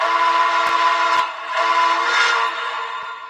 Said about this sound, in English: More train sounds.